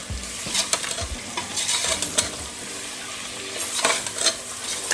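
Tomatoes with turmeric, curry leaves, coriander and mint sautéing in ghee, giving a steady close sizzle broken by the scrape and clatter of a spoon stirring the pan.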